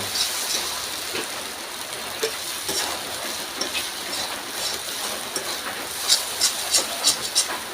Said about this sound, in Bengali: মরিচ পাউডার দিয়ে দিলাম। ফ্রাই করে নেব।